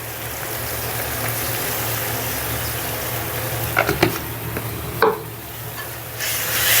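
Ground coriander and turmeric sauté in a pan for chicken bhuna, a steady low sizzle with soft stirring scrapes and a few sharp clanks of the utensil against the pan near the end.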